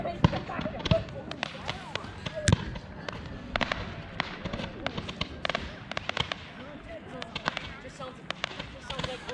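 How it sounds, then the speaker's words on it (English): Fireworks bursting at dusk at an outdoor bus gathering, a string of sharp pops and cracks spread across the scene, some louder than others, with people talking over them. "Hey, we got fireworks."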